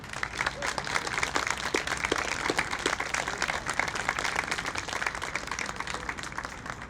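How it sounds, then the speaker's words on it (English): An audience at a Veterans Day festival tribute gives steady, sustained applause honoring veterans, with dense clapping and some faint crowd voices underneath. "I'm asking that all of you join us in a big round of applause and thanking all of our veterans for their sacrifice"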